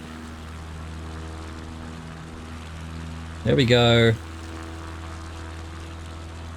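Propeller plane engine in MS Flight Simulator on a Patagonia bush trip, a steady low drone with a short louder whirring burst midway while someone talks briefly.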